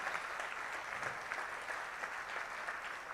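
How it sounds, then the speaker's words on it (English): An audience at a conference hall claps for engineers, a dense, steady round of applause lasting about three seconds with no talk over it. "Give a big round of applause for all the engineers."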